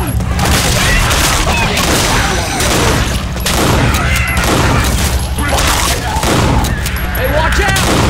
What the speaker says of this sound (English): Going with the shotgun.